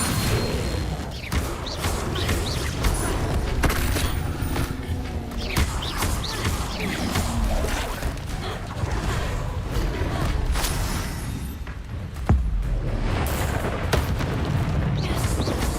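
Blasting-spell explosions from Hogwarts Legacy, a steady barrage of booming blasts and crashing impacts layered over game effects, loud and continuous, with one sharp burst near the end.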